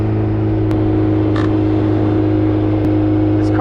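A Honda S2000 with a built K24 engine drives along with a steady, loud engine drone and road hum from inside the cabin, with a few faint clicks over the constant motor sound.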